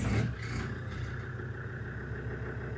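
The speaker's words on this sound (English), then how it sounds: "turn the engine on" A Land Rover Defender engine, in neutral in a garage, catches with a brief louder burst and then settles into a steady, low, continuous idle rumble, close and alone.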